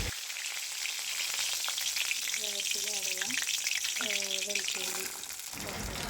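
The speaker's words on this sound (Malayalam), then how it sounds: "കുറച്ച് എണ്ണ ഒഴിച്ച് കൊടുത്ത് വേപ്പില ഇട്ട് കൊടുക്കുന്നുണ്ട്." Curry leaves hit hot oil in a pan and crackle into a loud, busy sizzle that holds steady, with a few short tonal squeaks mixed into the frying noise.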